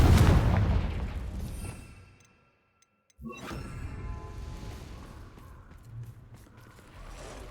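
A Confringo blasting spell explosion in Hogwarts Legacy near a spider cave: a loud boom that rumbles and fades to silence, then a sharp second blast and a lower, lingering rumble, with no talking.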